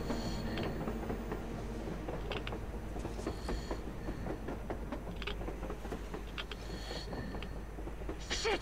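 Continuous low mechanical rumble and clanking of a train passing on the surface in the video game Metro Exodus, with scattered metallic taps and rattles throughout and no speech.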